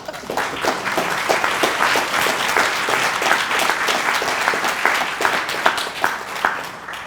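An audience at a historic preservation reception applauds steadily, many hands clapping at a dense, even rate without pause throughout.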